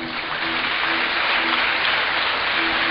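Listeners at a Bhagwat Katha religious discourse in Siliguri clapping together, a dense, continuous burst of applause held at an even level with faint tonal hum beneath it.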